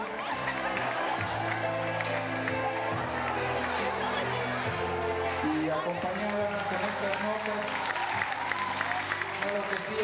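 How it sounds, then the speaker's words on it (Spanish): An audience at an evening social hall celebration claps and cheers steadily under music and a voice, the applause a continuous, moderately distant patter lasting the whole stretch. "Un fuerte aplauso para ella."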